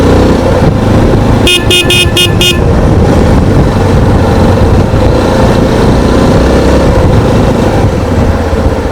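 Along a hill road ride toward Kadambur, a vehicle horn sounds five quick, evenly spaced honks over loud, constant engine and road noise.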